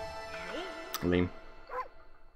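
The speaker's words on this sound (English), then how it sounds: "Little intercutscene bark." A short dog bark from an Okami cutscene sounds once in the middle, close and fairly loud, with game music and voices around it.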